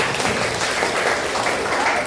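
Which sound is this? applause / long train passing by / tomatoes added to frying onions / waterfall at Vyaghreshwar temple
applause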